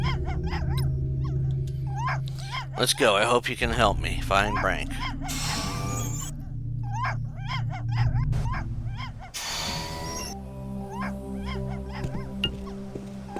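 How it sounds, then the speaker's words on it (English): Dog barking and whimpering in the video game Tales of the Neon Sea, with several short yips and whines over steady game music, alongside a voice talking. "The puppy is barking at something down below."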